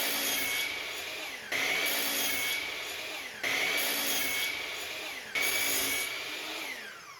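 A saw cuts wooden boards to a fixed length against a stop block for a board and batten accent wall, giving four repeated cutting passes, each a sharp onset that tapers off, evenly spaced and close.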